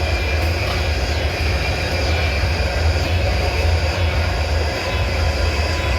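A freight train with a DPU locomotive rolls past on the C&L track, giving a steady, loud low rumble with constant wheel and rail noise throughout and no break.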